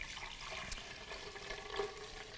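Water added to almond butter to make almond milk, a soft, steady trickling pour heard close and faint, with no voices.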